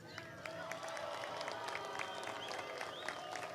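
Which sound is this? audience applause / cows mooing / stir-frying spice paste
audience applause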